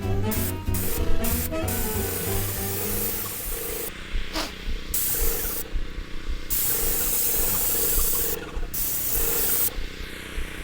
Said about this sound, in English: the paint sprayer started acting up